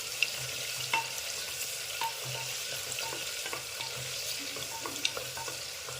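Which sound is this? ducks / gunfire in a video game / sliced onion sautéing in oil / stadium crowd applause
sliced onion sautéing in oil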